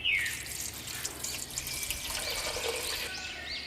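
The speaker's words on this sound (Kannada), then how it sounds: "ಮತ್ತು ನೀರು ಪಾಡ್ಗ." Water poured into a pot of dal for sambar made with sabakki greens, salt and jaggery, a steady broadband pouring splash running nearly four seconds, close and fairly soft, with no talk.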